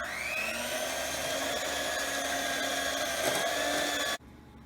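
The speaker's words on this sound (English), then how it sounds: "now I'm going to mix this butter and 2 sugars with the electric mixer for about 1 minute at medium speed" An electric mixer whirs steadily at medium speed, beating butter with two sugars in a bowl, a loud continuous drone that cuts off abruptly near the end.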